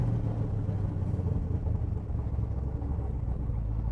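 A 1966 Chevrolet Corvette engine pulls steadily at half throttle, giving a continuous low, rumbling drone that stays loud and close, with no voices over it.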